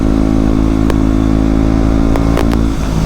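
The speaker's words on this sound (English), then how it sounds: "I highly recommend the G125 as a learner bike or a CVT bike." A G125 learner motorcycle with a CVT being ridden up a tight, twisty road, its engine droning loudly and steadily throughout with a few brief clatters over the top.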